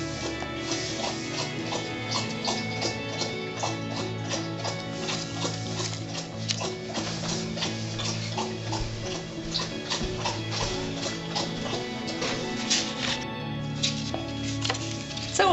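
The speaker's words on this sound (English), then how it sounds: "my dog was having a long drink of water" A dog laps water in one long, unbroken drink, the quick wet tongue strokes forming a steady rhythmic patter over a constant tonal background.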